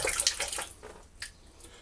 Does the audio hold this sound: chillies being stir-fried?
no